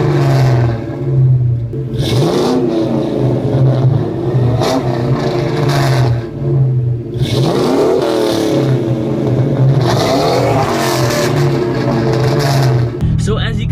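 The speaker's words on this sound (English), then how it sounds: "the X-pipe and the H-pipe went head to head, and you could obviously tell the X-pipe was so much louder and raspier" Ford Mustang V8 exhaust compared with an X-pipe and an H-pipe, loud and raspy, revving in repeated surges with a steady rumbling idle between them, recorded close.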